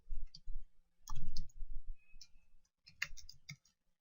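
Keyboard keys clicking in short bursts with an Enter press while entering data into an Excel 2010 spreadsheet, a close, fairly quiet tapping with low thumps between clusters.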